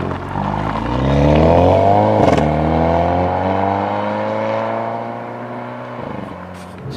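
A 2022 Hyundai Veloster N sports car pulls away onto a country road, its engine note rising loudly then easing into a steady drone heard from inside the cabin, with a brief thump midway and no talk.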